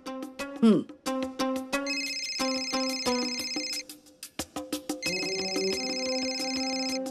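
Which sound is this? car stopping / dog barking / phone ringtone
phone ringtone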